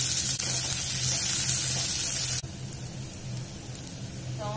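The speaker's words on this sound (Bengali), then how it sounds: "আমাদের পেঁয়াজটা অলমোস্ট হালকা ভাজা হয়ে গেছে।" Two medium onions fry lightly in a pan for chana masala, giving a loud, steady sizzle that drops suddenly to a quieter crackle partway through.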